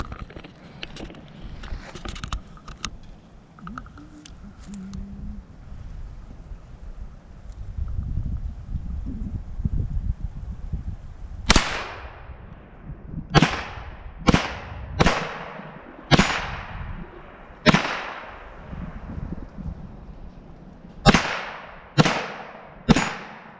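Sharp gunshots from a Kel-Tec Sub2000 rifle, about ten loud close cracks fired singly at an uneven pace, each with a short decaying echo, after a stretch of handling noise and low rumble.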